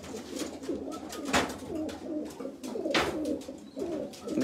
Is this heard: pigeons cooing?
yes